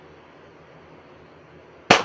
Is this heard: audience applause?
no